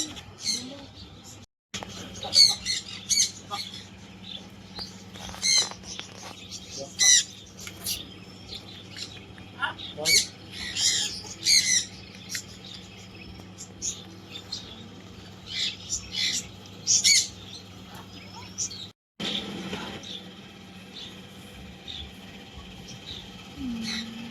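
Parrots squawking and chirping in a rapid scatter of sharp, high calls, close by, over a steady low hum that runs throughout.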